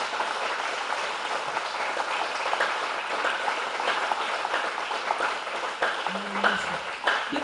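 Sustained applause from a church congregation, a dense even wash of clapping that carries on for several seconds.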